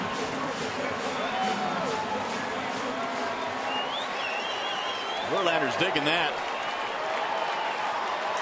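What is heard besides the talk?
baseball stadium crowd cheering after home run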